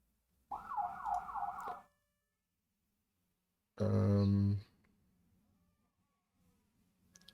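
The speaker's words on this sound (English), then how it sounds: "If you're hearing sirens outside, that is our local fire department doing Santa Claus on Christmas Eve" Two loud fire truck siren blasts sound from outside, a longer wailing one, then a pause and a shorter, harsher burst, with quiet between them.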